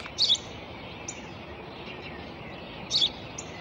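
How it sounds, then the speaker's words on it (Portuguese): A small bird chirps in short paired bursts, two clusters of bright tweets about three seconds apart with a few fainter calls between, over a soft, steady outdoor background. "Que é aquilo? Um pássaro, pai, um pássaro."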